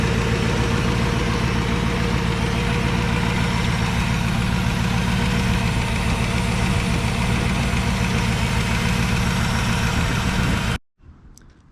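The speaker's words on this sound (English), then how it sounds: "It's idling a little high," A 1963 Chevrolet Impala, restarted after 35 years, idles a little high with a steady, loud rumbling engine note close by, running continuously before cutting off abruptly near the end.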